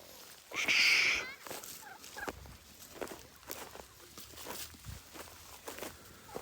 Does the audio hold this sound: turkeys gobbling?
yes